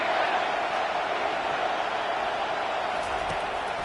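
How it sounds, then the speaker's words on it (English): A football stadium crowd roars in support of the defense on a big third down, a dense, continuous wash of cheering that stays loud throughout. "Big third down as the crowd gets behind this defense."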